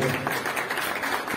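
Crowd applause rings out at a homecoming welcome for a trophy winner, a dense steady wash of clapping from a gathered group.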